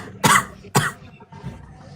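Two sharp coughs in quick succession from someone close to the microphone during a livestream, followed by a softer third throat sound.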